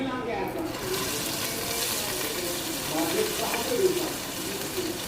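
Steady, loud sizzling hiss of crushed red chilies and spices tempering in hot oil, continuous and close, swelling slightly toward the end.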